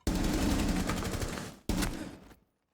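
Sustained automatic gunfire in the video game Rainbow Six Siege, a loud, dense spray lasting over a second, then a brief second burst that cuts off into silence.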